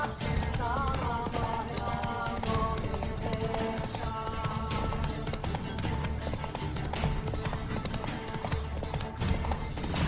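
Roach, a horse in The Witcher 3: Wild Hunt, gallops with rapid, steady hoofbeats under game music, and a neigh is heard early on.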